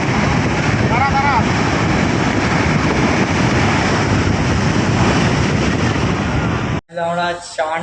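Strong sea waves at Digha beach surge in a loud, continuous roar with wind buffeting the microphone, then a voice speaks briefly at the end.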